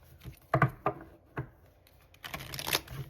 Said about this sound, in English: I just recently got this deck and it's so hard to shuffle.